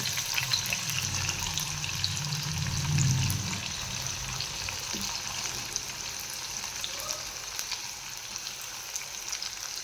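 Onion and green chillies sizzle steadily in hot oil in a pan while making spicy besan, a continuous frying hiss with a brief low bump of handling partway through, no talk.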